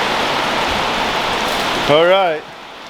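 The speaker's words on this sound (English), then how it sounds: "I'm sure you can hear it's starting to rain." Rain begins falling in a dim space where concrete mesh is being laid, a dense even hiss of drops on a surface that runs steadily before a man's brief spoken words.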